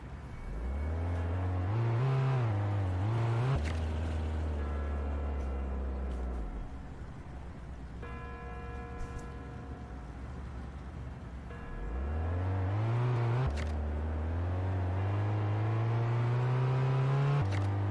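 Car engine in the Ukrainian-map GTA game revving up through rising gear-shift sweeps, dropping to a steady idle-like hum midway, then accelerating again with climbing engine whine, loud and alone without speech.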